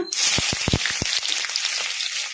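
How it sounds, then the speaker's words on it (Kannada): Onions frying in hot oil with popped mustard seeds and cumin in a pan, a loud, steady close sizzle with a few sharp crackles near the start, no talk. "ಉಳ್ಳಾಗಡ್ಡಿ ಗೋಲ್ಡನ್ ಬ್ರೌನ್ ಕಲರ್ ಬರೋವರೆಗೂ ಫ್ರೈ ಮಾಡ್ಕೊಂಬಿಡೋಣ"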